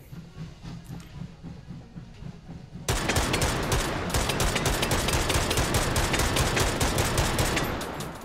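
Gunfire from a rifle in the VR shooter Hot Dogs, Horseshoes & Hand Grenades breaks out after a quiet stretch into a loud, dense, unbroken rattle of close shots that continues to the end.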